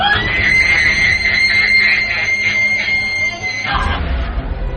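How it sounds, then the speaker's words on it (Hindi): An old woman's terrifying scream in a Hindi horror story: a loud, drawn-out, shrill cry sustained for over three seconds, then breaking off into a low rumble. "उस बूढ़ी औरत ने संजय की आंखों में आंखें डालकर देखते हुए ही अपना बड़ा सा मुंह खोला और एक भयानक चीख मारी।"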